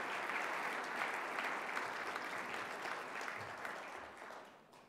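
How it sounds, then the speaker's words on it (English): Audience applause for a Monsignor at a Bishop Ward school event, a dense, steady ovation that holds at full strength throughout and thins slightly at the very end. "Let's give him one more round of applause and send positive energy his way."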